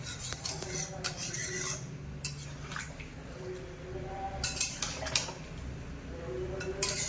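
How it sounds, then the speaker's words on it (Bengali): Chicken simmering with a little water in a pan, stirred with a spatula, giving soft scraping clinks and wet squishing that come and go at close range. "জল দেওয়ার পরে খুঁটি দিয়ে এইভাবে ভালোভাবে নেড়ে দেবো"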